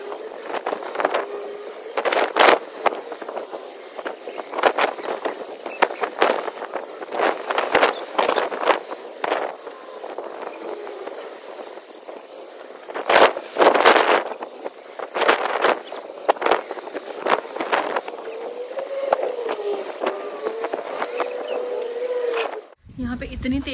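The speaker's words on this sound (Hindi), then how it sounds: "इतनी तेज़ हवा चल रही है" Strong wind blows outdoors where laundry and a blanket hang on a line. Gusts buffet the microphone in loud, irregular bursts, with a voice speaking faintly now and then.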